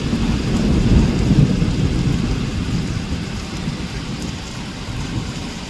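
Heavy rain pours steadily at night through a thunderstorm, with deep thunder rumbling loudly near the start and the downpour holding on as a constant broadband roar, no voices.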